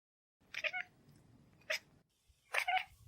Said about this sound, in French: je m'intéresse à ce que mon chat essaie d'exprimer à travers les sons qu'elle produit